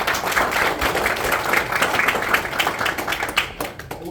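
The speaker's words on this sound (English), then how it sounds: "guess if we can give them a round of applause" Audience applause at a county sheriff meet-and-greet, a dense, even round of clapping lasting about four seconds before tapering off.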